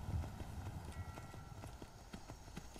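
The horse Shadowmere's hooves clip-clopping in Skyrim, a steady, rhythmic run of soft hoofbeats at a moderate distance, heard alone without talk.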